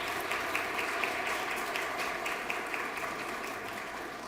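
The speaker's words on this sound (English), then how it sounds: "let's give them another big round of applause." Sustained audience applause at a Teacher of the Year awards banquet, a steady dense wash of many hands clapping that holds evenly throughout, with no speech over it.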